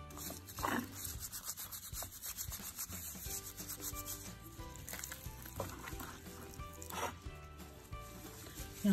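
Hands rub salt into a raw leg of lamb, giving a continuous soft, close rubbing and scuffing with faint wet smears and repeated strokes, quiet and without talk.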